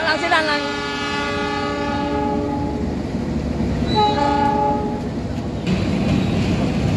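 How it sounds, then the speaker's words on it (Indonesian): Indonesian train locomotive shunting cars at the Argo Bromo Anggrek inaugural run, a loud multi-tone horn blast followed by a second shorter horn over steady rumbling rail noise. "Ini ada langsiran lokomotif, ya."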